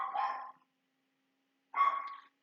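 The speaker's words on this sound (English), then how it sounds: "You can still hear my dogs barking" Dogs barking at home, two short bursts of barking separated by a pause of about a second, fairly faint and distant with no talking.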